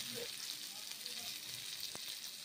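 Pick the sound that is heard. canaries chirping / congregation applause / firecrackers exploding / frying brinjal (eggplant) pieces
frying brinjal (eggplant) pieces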